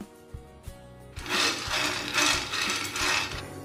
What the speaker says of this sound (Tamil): இது ஒரு பேனில் ஆட் பண்ணிவிட்டு நல்லா ஃப்ரை பண்ணி எடுத்துக்கலாம்.